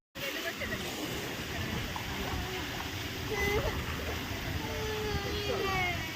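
Water pours steadily from an octopus water feature at a water park, a continuous close splashing rush with voices in the background.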